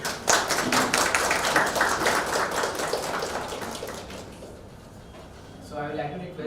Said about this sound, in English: So big round of applause for sir